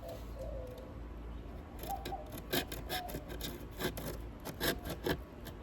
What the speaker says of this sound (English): Now we do have our X-Acto knife, and the way we can trim this is simply coming underneath.